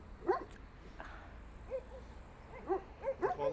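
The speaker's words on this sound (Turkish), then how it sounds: "O da uzaktan uzaktan havlıyor." A dog barks from a distance in short, scattered yips and whimpering barks, a few bursts spread across a quiet outdoor background, faint and far off.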